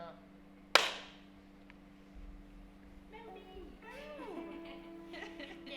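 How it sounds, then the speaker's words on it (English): A single sharp hand clap made as a sync marker rings out once and decays quickly, followed by quiet room tone and then faint voices speaking further off. "I'm just going to clap so I have a marker"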